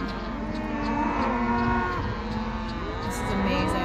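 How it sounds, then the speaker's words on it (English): Cattle crossing a road moo in several long, close, overlapping calls, with low steady background noise and no talk. "We have cow crossing."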